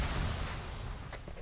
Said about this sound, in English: MBT has exploded.